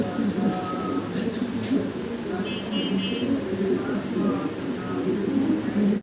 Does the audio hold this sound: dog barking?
no